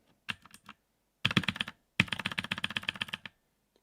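Quick clattering keystrokes on a computer keyboard come in three close bursts: a short opening flurry, then two longer runs of rapid taps, heard alone with no talk.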